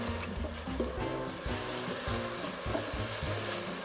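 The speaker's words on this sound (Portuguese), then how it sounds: "E conforme você vai esfregando o fundo da panela, os pedacinhos vão retirando toda a sujeirinha que o bacon deixou" Beef pieces fry in a pan with bacon fat for boeuf bourguignon, a steady close sizzle with repeated scraping and stirring strokes across the pan bottom.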